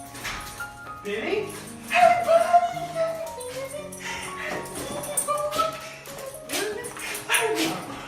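An excited dog greeting its soldier owner home after six months away whimpers and yips in high, wavering bursts, mixed with people's voices close by.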